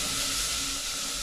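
Onion frying in a small amount of oil, a steady dense hiss and sizzle heard up close and fairly loud, continuous with no talk.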